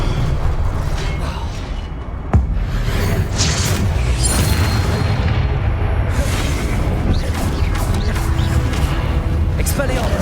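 Confringo fire-blast spell cast in Hogwarts Legacy: one sharp booming impact, part of a loud, continuous stretch of rumbling battle noise, with voices around it.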